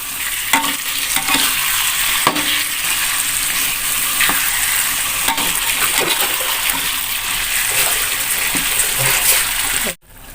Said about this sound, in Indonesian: Aduk lagi.